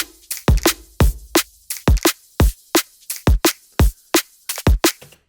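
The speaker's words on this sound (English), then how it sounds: "So I've got a little drum beat here, which sounds like this." A drum and bass beat with snare plays alone, punchy kicks and crisp snare hits in a fast, steady, looping pattern, close and dry with no voices.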